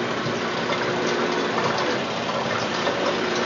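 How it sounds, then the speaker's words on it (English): Water from a Panda compact portable washing machine with spin dryer drains steadily into a bathtub, a continuous close gushing and splashing rush with no talking. "the center button up here drains both the washer side and the spin dryer."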